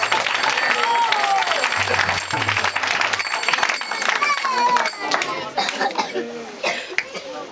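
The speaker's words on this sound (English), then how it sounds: "Let's give them a big round of applause." A crowd applauds at a New Year's Eve 2010 gathering, loud and continuous clapping mixed with coughs, chatter and children's voices nearby, with a low thumping and stray tones in the background.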